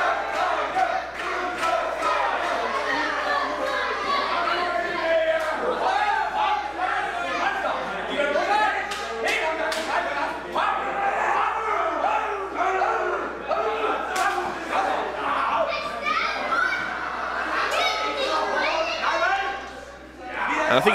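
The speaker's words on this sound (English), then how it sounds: "The crowd here in Odense just getting on the back of the Truth Movement." A wrestling crowd in Odense at a BODYSLAM show roars and chants, a dense continuous din with sharp slams and shouts through it, swelling loud throughout and dipping briefly near the end.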